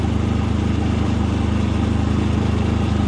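A new Predator 3500 inverter generator runs just after its first start, a close, loud, steady engine drone with a fast even pulse and no talk over it.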